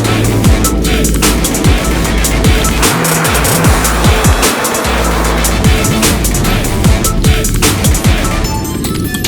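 A 570 hp electric Porsche Taycan Cross Turismo drifts on a dirt surface, with continuous loud tire scrabble, gravel spray and rising and falling motor whine passing close by.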